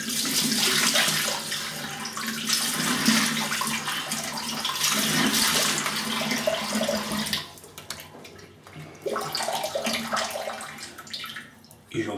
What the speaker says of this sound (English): I'm gonna have a quick rinse, see if there's anything getting picked up.